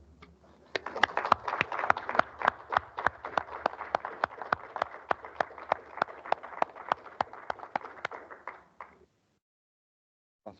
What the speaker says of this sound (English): I was wondering if we could have maybe a little clap for the leader